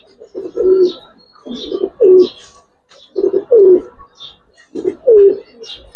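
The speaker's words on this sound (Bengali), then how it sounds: "ভাই পুরান জাতের একটা জাবরা নট" Old-breed Giribaz pigeons coo in repeated rounds, four or five low throaty phrases spaced across the stretch, close and fairly loud with faint higher chirps between.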